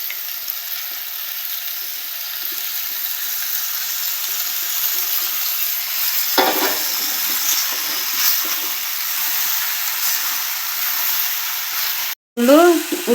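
Cooked pasta frying in a pan with roasted onion, tomato and green chili, heard as a steady hiss and sizzle, with stirring scrapes in the second half and a brief louder clatter near the end.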